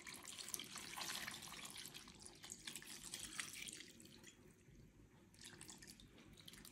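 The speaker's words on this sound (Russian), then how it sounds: "Добавляю сюда воды." Water pours and splashes into a pot of pitted cherries in a home kitchen, a continuous trickling stream that eases off partway through, fairly quiet and without talk.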